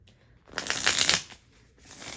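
A deck of cards is riffle-shuffled up close, one crisp rapid fluttering burst followed by soft handling noises.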